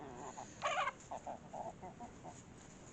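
Three small hens and a rooster cluck softly nearby in a backyard run, with short, irregular calls and one louder burst of clucking over a quiet outdoor hiss.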